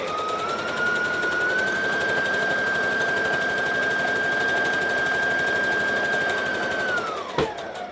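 Sewing machine chain stitching fabric for a Halloween costume, a steady high whirring hum running evenly for several seconds before slowing and stopping with a small click.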